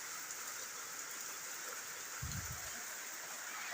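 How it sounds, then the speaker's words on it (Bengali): Heavy, steady rain pouring for a long time, with runoff from a whole house draining into a small three-inch hole in the ground; a constant broadband wash close by, with a brief low thump near the end. "প্রায় ১ ঘন্টা ধরে বৃষ্টিটা মুষলধারে বৃষ্টি হচ্ছে"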